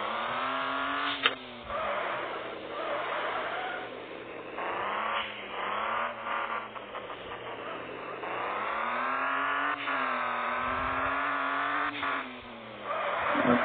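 Continuous simulated car engine from the BR Racing Simulador video game, rising and falling in pitch as it revs up, shifts and decelerates, loud and steady throughout.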